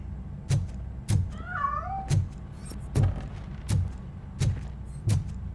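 A cat meows once, mid-pitched and wavering, heard hiding inside a piano, set against a row of regular heavy thumps spaced roughly every half second to second.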